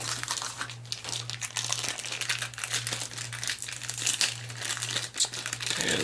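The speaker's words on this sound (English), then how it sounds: "Pull that out of the packaging there" Plastic packaging crinkles and crackles nonstop as the hands of a Hot Toys 1/6 scale Avengers Hulk figure are pulled free, a close, busy rustle with no talking.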